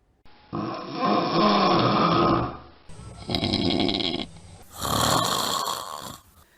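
Loud snoring in three long rasping breaths, each swelling and fading with short pauses between, close up with no talk.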